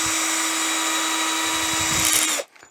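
A power drill whines steadily at close range for a couple of seconds, drilling out a metal rivet, then cuts off abruptly.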